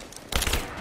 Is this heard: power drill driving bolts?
no